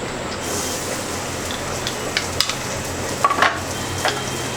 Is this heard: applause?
no